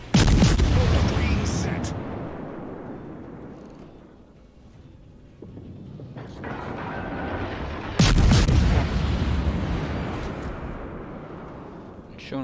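Heavy naval gunfire from the Royal Navy cruiser Edinburgh in World of Warships, loud booming salvos rolling on with sustained rumbling, a fresh strong volley near the end, with a voice speaking briefly over it.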